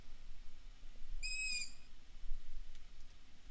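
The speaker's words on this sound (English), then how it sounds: "guess that was two different birds went off at the same time." Bird calls ring out in the survival game Survivalist: Invisible Strain, a single bright, warbling whistle of about half a second standing out above a steady low background rumble, with no voices present.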